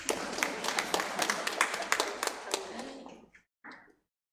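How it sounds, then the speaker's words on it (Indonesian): Congregation at a church prayer service claps together for about three seconds in a dense, roomy burst, then fades into silence, with a short trailing clap or two at the end. "Tepuk tangan dulu."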